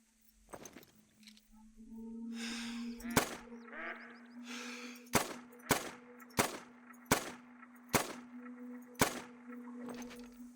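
Rifle shots in the hunting game theHunter: Call of the Wild, a series of sharp, evenly spaced loud cracks over a steady low hum.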